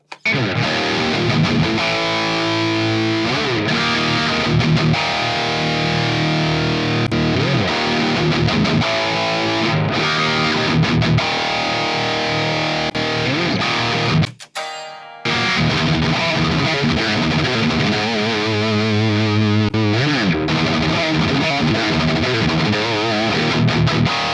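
Loud, continuous distorted electric guitar lead through an ML Sound Lab Block Letter amp, playing melodic lines, with a brief dropout midway before the saturated, sustained amp tone resumes.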